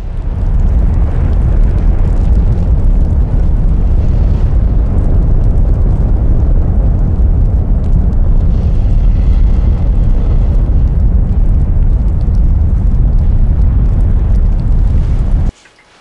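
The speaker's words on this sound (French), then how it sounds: "on tire, on jette à l'eau et ça fait du fumigène, donc ça fait de la fumée" A red marine smoke flare, pulled and thrown into water, gives a loud, continuous roaring hiss that holds steady and close for about fifteen seconds, then cuts off abruptly, with no voices.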